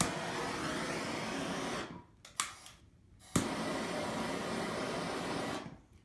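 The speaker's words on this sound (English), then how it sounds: "using a acetylene torch" An acetylene torch roars steadily with a broad hiss while heating rubber heat shrink on low-voltage kitchen light wiring, cutting out twice with sharp clicks before reigniting and continuing.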